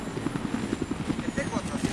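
A helicopter in a video game, steady rapid rotor chop pulsing throughout at close range and moderately loud.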